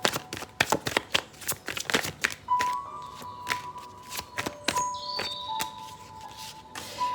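Tarot cards being shuffled by hand: a rapid run of crisp riffling snaps and taps, close and fairly soft, while faint sustained chime tones ring in the background.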